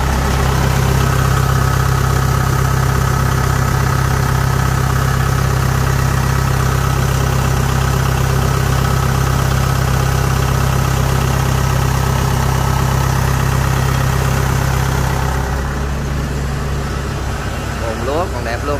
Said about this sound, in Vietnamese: Quay phần động cơ đây.